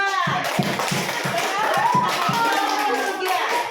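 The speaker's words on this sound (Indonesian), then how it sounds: "tepuk tangan untuk kelompok 2" A classroom group claps for a student team, about eight spaced bursts of hand claps standing out over a steady background of children's voices and room chatter.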